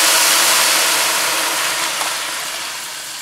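Vermicelli roasting in ghee over a high flame, a steady loud hiss and sizzle that eases off slightly toward the end, with no speech.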